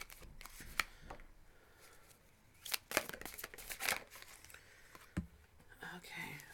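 Tarot cards are shuffled up close in a series of soft, quick riffling and slapping bursts with quiet gaps between them, while a hushed voice talks intermittently.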